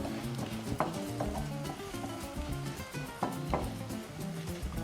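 Vegetable broth being stirred in a pot, a steady simmering bubble and hiss with soft scraping and occasional light knocks of the spoon against the pot, fairly quiet and continuous.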